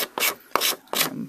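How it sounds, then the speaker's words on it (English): A distressing tool scrapes along the paper edges of a shabby chic journal in four quick, rough strokes with a dry rasping texture, close and clear with short gaps between. "I'm going to distress the edges"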